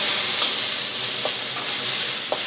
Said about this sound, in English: saute the chili